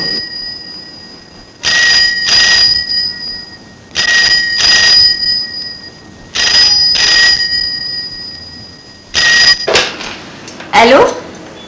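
A telephone rings in repeated bursts with short pauses between them, fairly loud, over a busy government office background with other sounds mixed in.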